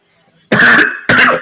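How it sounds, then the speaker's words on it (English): Two sharp coughs, close and loud, a short pause between them, after a near-silent start. "oh, sorry, cough."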